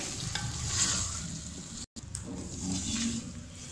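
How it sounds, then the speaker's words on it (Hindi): Tomato paste is stirred into a sizzling spice masala in a pan for chicken liver pulao, a close, continuous scraping sizzle with a brief break midway. "ऐड कर देंगे अच्छे से मिक्स करेंगे"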